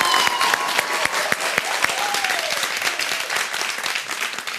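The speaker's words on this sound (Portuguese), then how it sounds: "Um aplauso." A studio audience of schoolchildren claps continuously, a dense, steady round of applause with a few whoops, close and loud, fading slightly toward the end.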